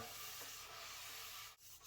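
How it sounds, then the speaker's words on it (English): Steady, continuous scratchy rubbing of a fine sanding sponge across a wooden table surface, close and even, with a brief pause near the end before it resumes. "I sand my surfaces with this really fine sanding sponge"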